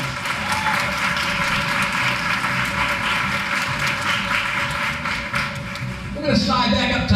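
Audience applause at a school teacher-of-the-year ceremony, a steady dense clapping throughout with a faint voice and a sustained tone underneath, swelling slightly louder near the end.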